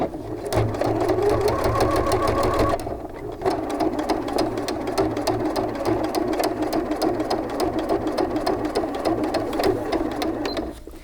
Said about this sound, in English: let's go ahead and start sewing